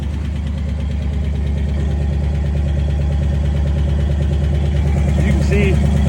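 A small engine idles steadily on full choke at about 1,000 RPM while warming up and still smoking, a loud, close, continuous low rumble with a brief high whine near the end.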